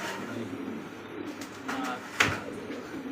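A pair of original Rasgolla pigeons gives soft, low cooing, set against a steady wash of background noise with a brief louder burst partway through.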